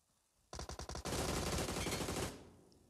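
Gunfire from the mobile battle-royale game PUBG Mobile: a few quick separate shots, then a loud sustained automatic burst lasting over a second that trails off, with no talk over it.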